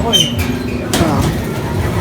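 Pet birds, likely pigeons or doves, coo softly in a backyard aviary beside moringa plants, a few low calls and chirps close by with steady background noise.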